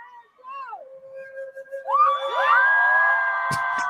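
A live audience erupts into loud cheering and whoops after a thin sustained wine-glass tone, swelling midway and holding at full volume to the end.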